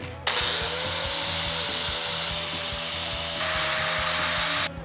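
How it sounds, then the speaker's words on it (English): An angle grinder grinding paint off metal, a loud close steady high whine with a gritty scraping edge, running continuously for about four seconds over a rhythmic low thumping background before cutting off. "I gotta grind some paint."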